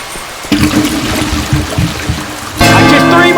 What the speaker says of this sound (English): Filling the generator.